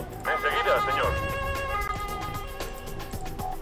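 An ambulance siren from the video game Emergency 4 wails at moderate volume beneath excited Spanish-speaking players talking over it.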